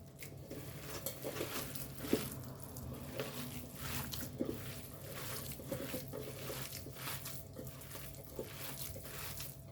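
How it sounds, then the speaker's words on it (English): Sabudana vada mixture of soaked tapioca pearls and salt being mixed by hand, a soft continuous wet squishing and patter at low level, steady for several seconds with no voices. "Mix all together so the salt what we put, it's all gone nicely."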